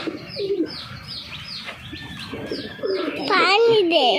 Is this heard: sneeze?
no